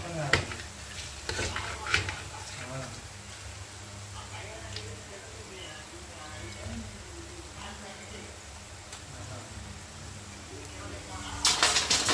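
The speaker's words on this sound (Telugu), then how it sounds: "ఇది వచ్చేసి ఇంకో పకోడీ. ఇంక ఇది ఒక కాయకు వచ్చిద్దేమో, ఇంక అది కూడా వేస్తే సరిపోయిద్ది. ఫ్రై అవుతా ఉంది బాగా." Pakoda frying in hot oil, sizzling steadily through the clip, with occasional clinks and stirring knocks of a utensil and a louder burst near the end.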